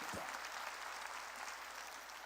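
A church congregation claps together at a sermon, a dense steady wash of applause lasting about two seconds, fairly distant and even, with no talk over it.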